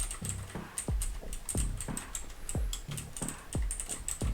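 Keys clack on a Gigaware K550 mechanical keyboard, a budget model, in a steady close-up run of sharp clicky strokes with heavier thocks from the larger keys, loud and alone.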